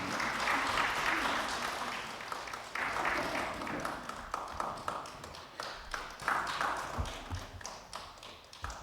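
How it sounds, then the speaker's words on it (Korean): A church congregation at a Sunday morning service gives loud, continuous applause to welcome a team, with voices mixed in beneath the clapping. "큰 박수로 맞이해 주세요."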